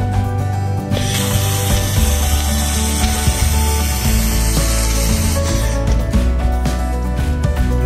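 Laser cleaning of thick carbon steel at low power and high frequency: a steady loud buzzing hiss with a continuous droning hum, running unbroken for several seconds with a slight change in tone toward the end.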